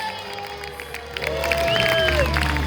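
A live animal show audience cheers and claps, rising from scattered noise into louder crowd excitement at close range, with a whistle-like sliding tone above the crowd.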